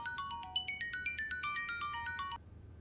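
A phone ringtone plays a quick, bright electronic melody of rapid repeated tones for about two seconds and then stops abruptly, clear and close, with no talking over it.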